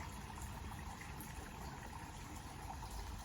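Garden patio waterfall in a shaded yard, a steady continuous splash and rush of falling water, close and even throughout with no voices.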